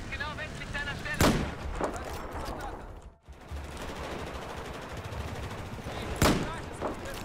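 AMR-2 sniper rifle firing in a video game, two sharp loud shots several seconds apart over a dense, noisy game soundscape, with a voice talking throughout.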